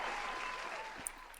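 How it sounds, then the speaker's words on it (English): Audience applause at a live podcast-style taping, a steady wash of clapping from a crowd that holds evenly for over a second, fairly quiet, with a brief faint voice near the end. "Can we get a round of applause for Billy Maine from back your country?"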